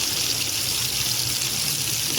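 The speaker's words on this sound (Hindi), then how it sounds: "अब हम इसके अंदर गोभी ऐड करेंगे और गोभी को हम फ्राई कर लेंगे" Cauliflower pieces frying in hot oil in a kadai give a steady, dense sizzling hiss that stays loud and even throughout with no talking.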